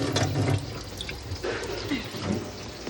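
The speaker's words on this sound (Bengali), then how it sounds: "চলো চিকেনটা ধুয়ে নিই।" Tap water running while chicken is washed, a steady rushing stream with splashes and the drone of background noise, close and continuous throughout.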